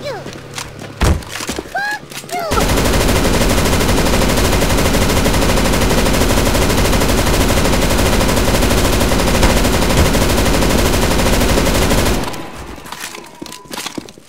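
Gunfire at a zombie boss in the CS:GO Zombies video game: a long, unbroken stream of loud rapid automatic shooting from several guns, with scattered shots and voices before it and a quieter tail afterward.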